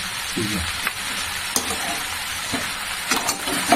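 Fried potato and papaya pieces go into a sizzling pan of mutton cooked with garam masala, giving a steady, close frying hiss with a few scraping stirs and clinks.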